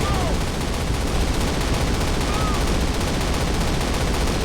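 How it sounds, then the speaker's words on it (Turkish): Rapid gunfire from the video game Call of Duty rattles continuously as dense, loud bursts blend into a constant roar of shooting throughout. "Kim sıktı lan bana?"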